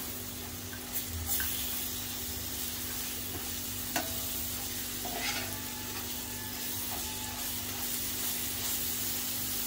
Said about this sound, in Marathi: मिक्स करून घेते मसाल्यामध्ये